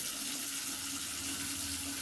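Water splashes steadily as it is poured to rinse a freshly washed car part, a constant close gush with no talking over it.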